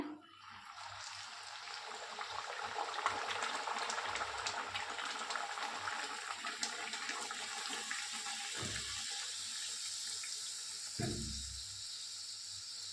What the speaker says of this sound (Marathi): आता दुसरी पुरी तळूया.